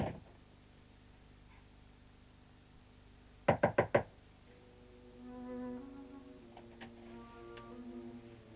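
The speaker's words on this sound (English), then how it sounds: "don't come out until I knock" Four quick knocks rap on a door, close and crisp against a quiet room, followed by soft background tones.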